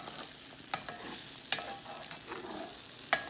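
Scrambled eggs cooking in bacon fat in a pan over lowered heat, a soft steady sizzle broken by several sharp stirring scrapes and clicks of the spatula, no voices.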